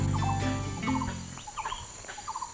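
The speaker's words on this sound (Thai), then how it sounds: "มีเสียงจิ้งหรีดด้วย" Short, high chirps repeat in quick bursts, like crickets, under a fading low rumble at first, then alone and faint, in rainy-season countryside at Sapan, Nan, Thailand.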